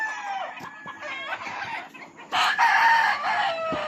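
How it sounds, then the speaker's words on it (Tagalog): A Paul Spark Grey gamefowl broodcock kept in a battery-type pen clucks in short bursts, then crows loudly and close by, with the crow stretching over the final second. "Puntahan natin yung Paul Spark Gray na broodcock."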